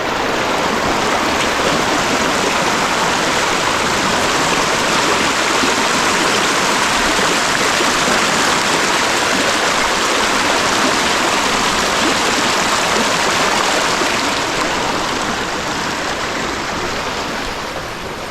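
Steady broadband rush of a stream flowing through dense forest, continuous and fairly loud without pause, fading slightly toward the end.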